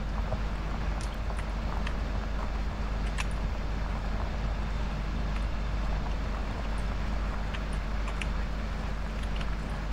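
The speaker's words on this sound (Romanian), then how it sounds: "Așa se aude tractor." A constant, rough tractor engine drone in Farming Simulator 2017 runs without a break, loud and close, with faint clicks and rattles scattered over it.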